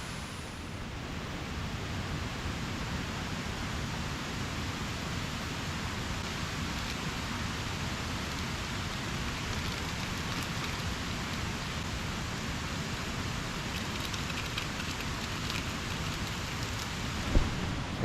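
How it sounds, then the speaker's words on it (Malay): Heavy rain pours at a campsite, a dense, unbroken roar of drops on surfaces near at hand that holds steady, with one sharp knock near the end. "Hujan lebat."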